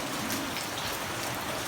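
Heavy rain pours down at a night work site with heavy equipment in Japan, a dense, steady hiss close by with no voices.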